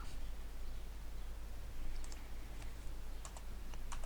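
Several crisp computer keyboard key presses, including the Enter key, tap out sparsely over a steady low hum while a CentOS virtual machine boots, with no voices.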